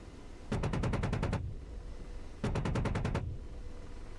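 Two bursts of rapid fire from the AH-64D Apache's 30mm chain gun in DCS World, each about a second long with roughly eight or nine distinct heavy thumping rounds, separated by a brief pause, loud and close.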